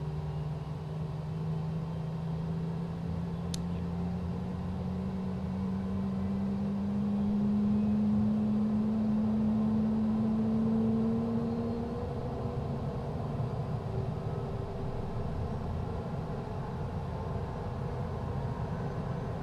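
A Cessna turboprop engine starting in Microsoft Flight Simulator 2020, a steady whining spool-up that rises slowly in pitch over a continuous low rumble, swelling midway, with no talk.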